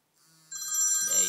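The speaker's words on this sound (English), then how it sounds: "So if I give it a call, hopefully you'll see it ringing." An original iPhone 2G ringtone starts faintly, then swells into a bright, warbling electronic ring that carries on steadily for about a second.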